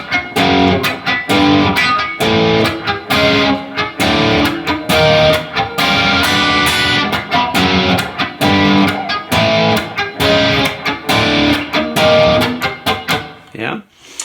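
Electric guitar plays the Blues Saraceno "Scratch" riff slowly, a loud run of choppy, distorted picked notes and chords with short gaps, alone, ending with a brief wobbling bend.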